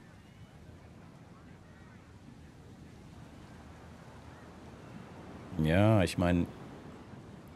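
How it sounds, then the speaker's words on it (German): Wind ambience on the Bandon Dunes course in an EA Sports golf video game, a steady soft broadband rush with faint surf-like texture throughout, briefly overlaid by someone speaking near the end. "es ist ein bisschen Gegenwind, ne?"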